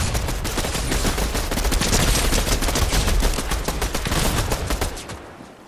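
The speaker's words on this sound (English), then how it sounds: "Don't get shot at. I'm shooting." Rapid, dense bursts of gunfire from the video game Fortnite crackle almost continuously and loudly for about five seconds, then cut off abruptly into quiet.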